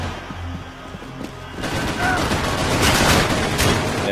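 Rapid gunfire in the shooter Max Payne 3 in online play, starting as a muffled clatter, then jumping into loud, sustained bursts of shots and crashes.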